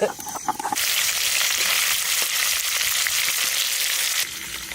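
Snakehead fish frying in hot oil, a loud steady sizzle that bursts in after a brief quieter start and holds dense and close before easing near the end.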